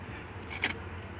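Car keys jangle faintly over a low idle-like rumble, with one brief brighter metallic clink near the middle; a car fitted with original fog lights, quiet and close.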